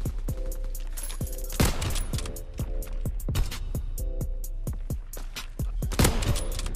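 Gunfire in a World War 2 video game: repeated sharp shots crack out in uneven bursts, loud and close, with some mechanical clicks and tones between volleys and no talking.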